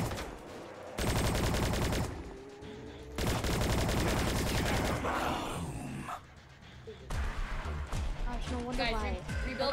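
Rapid bursts of automatic gunfire in Call of Duty Zombies, loud and close in two long sustained volleys with shorter shots later, while players talk over the action.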